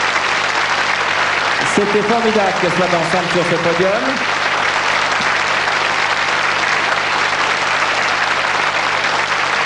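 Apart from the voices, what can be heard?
audience applause at the Miss France 1991 pageant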